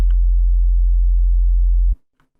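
Fabfilter Saturn 2 Rectify distortion in its Destroy setting gives a loud, steady buzzy tone rich in odd harmonics, sustained for about two seconds and then cut off sharply, leaving near silence.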